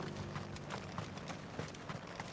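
Horse hooves walk at a steady clip-clop rhythm toward the stables in the Final Fantasy XVI video game, moderately close, over a faint ambient background.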